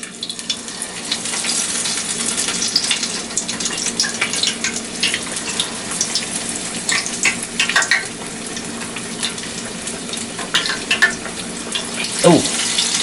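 Battered fish nuggets fry in hot oil with a continuous loud crackling sizzle, bursts of spattering rising and falling throughout, close up and with no one talking.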